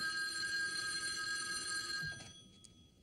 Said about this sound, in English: Let it ring. It's just some jerk making a phony phone call.